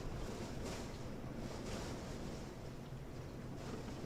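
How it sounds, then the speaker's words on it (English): Steady roaring wind-driven rain during a tornado, a dense wash of rain, gusting in slow surges, fairly loud and continuous with no voices. "It is wind-driven rain."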